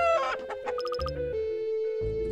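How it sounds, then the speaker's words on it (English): Chickens cluck in quick, choppy bursts, a run of short repeated clucks standing out against a steady tonal background, in the video game Mogeko Castle. "There's chickens everywhere."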